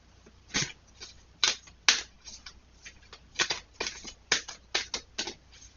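Tarot cards shuffled by hand up close, a rapid series of crisp riffling bursts and flutters in irregular clusters, with no talking.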